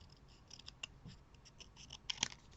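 Scissors snipping out a paper word for a handmade double-fold card, a quiet series of short crisp cuts spaced irregularly, with a sharper, brighter snip near the end.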